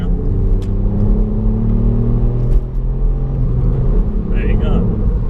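A 2019 Ford Fiesta ST Mk8 in normal mode, not sport, pulls out to overtake on a clear road. Its engine drones steadily and loudly from inside the cabin with a deep, sustained rumble for several seconds.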